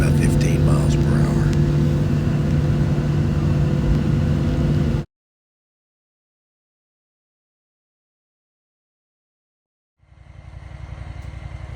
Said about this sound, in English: Here's the inside decibel volume when driving about 15 miles per hour.